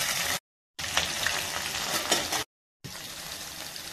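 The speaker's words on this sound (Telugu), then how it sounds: "అక్కడ అన్నం ఉడికే వరకు మనం నెయ్యితోటి బగారిచ్చేసుకుంటాం" Green chillies and cumin crackle and sizzle in hot ghee for a rice tempering. The frying is a steady, loud hiss broken by two short silent gaps, with no voices.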